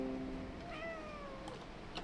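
A pet cat meows right by the microphone during a live PC build, giving a few drawn-out, rising then falling cries against a quiet room hum.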